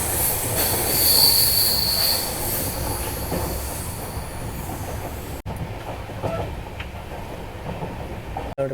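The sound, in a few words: Belagavi Bengaluru superfast train running slowly on ghat track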